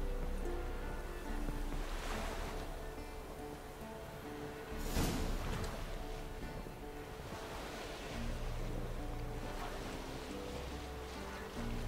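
Rowing a boat across a lake in The Witcher 3: Wild Hunt, with steady lapping water and splashing surges near 2, 5 and 8 seconds over a continuous wind-like wash and a low hum.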